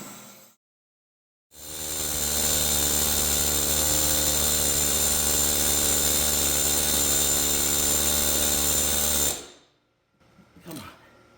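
An air hammer chisel works loose a John Deere clutch, a loud, close, continuous high-pitched buzzing burst lasting about eight seconds between short silences, followed by a faint clunk.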